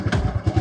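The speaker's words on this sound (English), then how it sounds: "I'll just start the bike." A Royal Enfield Classic 350 motorcycle engine thumps close by in a quick, steady low pulse, loud and throaty, lasting under a second.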